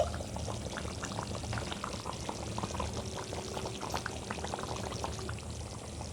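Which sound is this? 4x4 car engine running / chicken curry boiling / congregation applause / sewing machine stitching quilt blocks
chicken curry boiling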